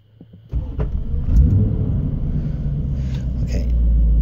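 A 1996 C4 Corvette cranks and fires up after a quiet start, its engine settling into a deep, loud rumble that swells slightly near the end, with brief voices beneath.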